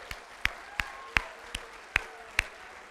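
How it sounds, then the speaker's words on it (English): Audience at a school awards program honoring retirees giving a round of applause, heard as a sparse, faint string of about seven separate claps spaced evenly apart rather than a full crowd. "round of applause"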